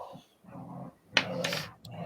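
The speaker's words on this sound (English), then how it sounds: "I am so glad my dogs can provide the soundtrack" Dogs growl low in a room, with rough rumbling bursts broken by short pauses and a sharper yelp-like rise near the middle.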